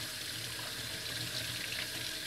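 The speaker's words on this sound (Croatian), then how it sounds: "Pojačamo mlaz vode, stavimo jednu kašiku da voda direktno pada na nju" A strong kitchen tap stream pours directly onto a spoon held in a strainer, splashing into a steady, loud, even spray with no pauses.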